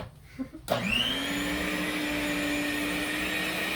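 An electric mixer switches on abruptly and runs steadily at close range with a sustained whine, beating sugar cookie dough with flour; a brief quiet lead-in precedes the continuous motor drone.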